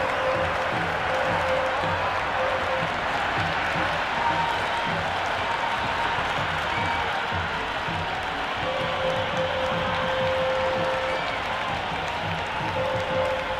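Stadium crowd in the cricket video game Cricket 26 during an India versus New Zealand one-day international chase, a steady dense roar of cheering and applause that holds at the same level throughout with no distinct peaks.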